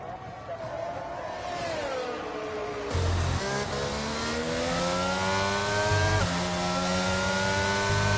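Race cars in a Williams-team event sweep through the final corner and across the finish line in Miami, engines whining and rising in pitch as several pass near and loud, with a commentator talking over them.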